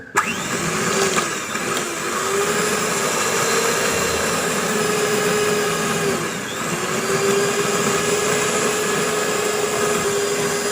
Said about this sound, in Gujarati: હવે આપણે આ રીતે બીટરનો યુઝ કરીશું